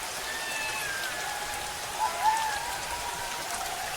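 Steady rain patters on a tin roof, a dense even hiss of drops with a couple of brief louder plinks midway.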